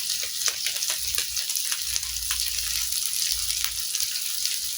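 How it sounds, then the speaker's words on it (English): Turmeric, coriander and cumin powder sautéing in a pan give a steady soft sizzle with scattered faint crackles and pops, close by and unbroken, with no voices. "And then saute everything until it becomes very fragrant."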